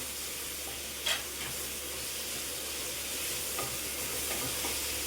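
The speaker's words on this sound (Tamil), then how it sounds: "அடுத்து புதினா ஆஞ்சி வச்சுருக்கேன், அதையும் போட்டுருவோம்." Mint leaves dropped into a pan of softened frying tomatoes for vegetable biryani, giving a soft, steady sizzle with light stirring and one brief clink near the start.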